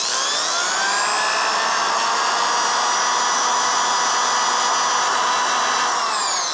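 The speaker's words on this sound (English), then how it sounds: "Start sanding on the high side, bring it down to the low side." A power sander with 150-grit paper runs loud and steady on a hollow metal sphere, a continuous high whine with shifting tones that winds down at the end.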